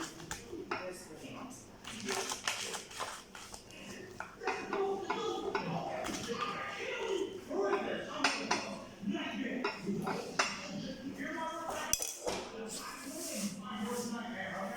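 A homemade lasagna pan goes into the oven with metallic clinks, clatters and shuffling of pans and racks, close and fairly soft, scattered through the clip with a voice talking at times.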